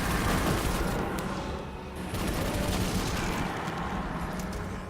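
Hammerhead machine gun firing in Destiny 2, a continuous rapid rattle of shots with dull booms, steady and close throughout with no talk.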